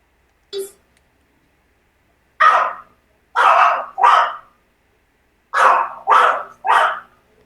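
A dog barks in short sharp bursts, one yelp followed by six loud barks grouped in a pair and two triplets, close by with silence between them and no talk.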